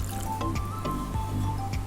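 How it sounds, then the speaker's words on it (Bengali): Stock being poured into a pan of chicken curry, a short wet splash and dribble of liquid with a few drips and squishy sounds, close and brief, without talk. "পুরো স্টকটাই আমি এর মধ্যে দিয়ে দেবো"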